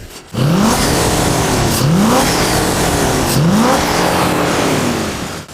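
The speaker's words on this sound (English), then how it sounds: "And when I need it, I get nice acceleration" A car engine accelerates hard, revving up through three rising gear pulls in quick succession, loud and close, then easing off at the end; the car had been mistakenly filled with diesel.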